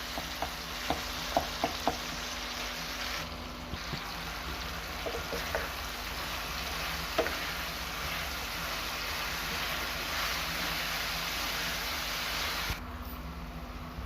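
Potatoes being stirred into mashed tomato paste in a karahi, a steady close sizzle with soft scraping and a few light clinks of the spoon against the metal pan.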